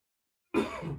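Silence, then a single sharp cough bursts out about halfway through, followed by a brief rough trailing rasp.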